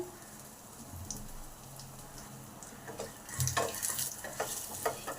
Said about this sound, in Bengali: এটা একটু ভালো করে নেড়ে নিতে হবে পাঁচ মিনিট ধরে যতক্ষণ না ভালোভাবে ভাজা হয়